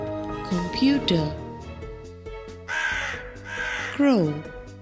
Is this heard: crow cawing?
yes